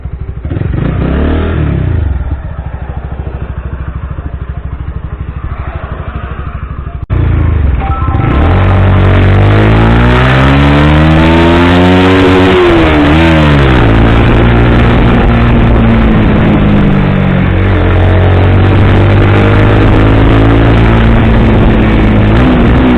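A Honda CBR 125R motorcycle accelerates hard toward top speed, its engine note climbing in pitch through successive gears with rising and falling revs, loud and close, steady wind roar throughout.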